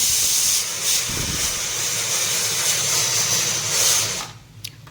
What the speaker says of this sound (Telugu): కుక్కర్ పెట్టాను కుక్కర్ అయిపోయింది